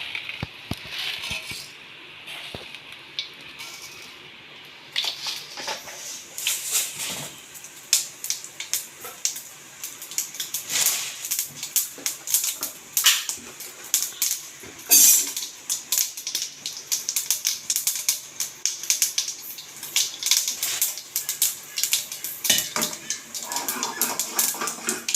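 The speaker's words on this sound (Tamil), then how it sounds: "இப்போ கடுகு பொரிஞ்சிருச்சு." Mustard seeds spluttering and popping in hot oil in a kadai for a pumpkin sambar tempering, a continuous crackling sizzle with scattered louder pops, close and steady throughout.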